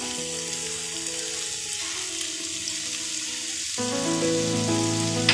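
Bottle gourd and prawn curry stirred in a hot pan, giving a steady, close sizzle with faint scraping that grows slightly louder and denser partway through.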